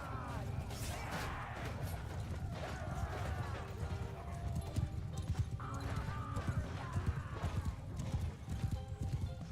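Horse hooves thunder in Mount & Blade II: Bannerlord (modded) during a cavalry charge on a battlefield: a dense, continuous clatter of many galloping hoofbeats, with whinnies and battle din mixed in, loud throughout.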